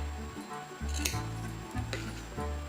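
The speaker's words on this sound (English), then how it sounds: "Cut this one." Scissors snip through a plastic garbage bag in a few close, crisp cuts, with the plastic rustling steadily between them, while making a car garbage bag.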